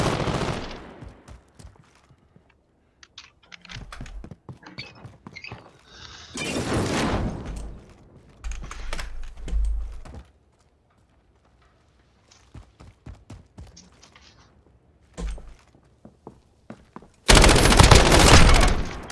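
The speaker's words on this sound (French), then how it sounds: "T'as entendu, tu m'as tiré dessus!" Call of Duty: Modern Warfare gunfire comes in scattered single shots and dense automatic bursts, some loud and near, others quieter, separated by short silent gaps.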